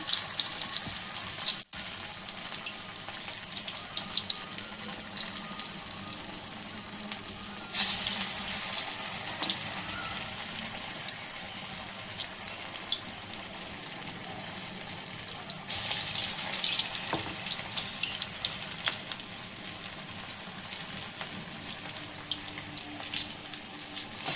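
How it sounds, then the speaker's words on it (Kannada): A continuous hiss of sabudana vada balls frying in hot oil, swelling louder in two stretches, with occasional soft clicks; no voices. "ಎಣ್ಣೆ ಕಾದಿದೆ, ಅದಕ್ಕೀಗ ಹಾಕ್ತಾ ಇದ್ದೇನೆ"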